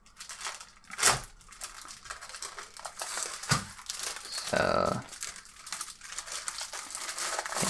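Plastic protective film from a Jelly Comb wireless keyboard and mouse combo crinkles and rustles during unboxing, in bursts of close, crisp crackling with a brief word of talk.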